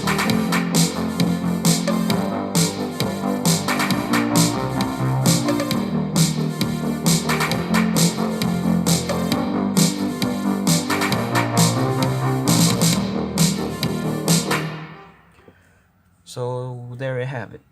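Retro 1980s synthwave track made in GarageBand on an iPhone 5S, with synthesizers, bass and drums playing loud and steady before cutting off near the end; a voice then speaks briefly.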